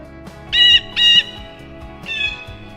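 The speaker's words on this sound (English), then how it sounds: "Next, we have the jaybird." A chatty jaybird gives two loud, harsh squawking calls in quick succession, then a softer, longer call after a short pause, clear and close with no talking.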